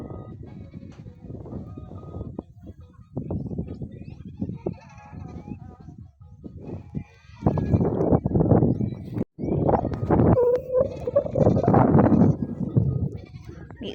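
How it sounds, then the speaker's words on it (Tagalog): Goats bleating on a rural farm, several loud wavering cries rising in the second half over scattered background noise and faint voices. "May umiiyak na kambing."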